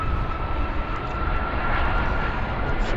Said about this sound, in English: This is an Airbus 330, wide-bodied,